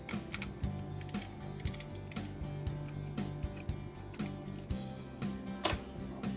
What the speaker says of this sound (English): we're going to remove those screws and set those aside